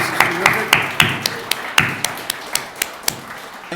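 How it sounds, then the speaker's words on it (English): An audience gives the staff scattered, fairly sparse applause, a few distinct claps and taps at an uneven pace under a light background murmur. "Let's give the staff a round of applause."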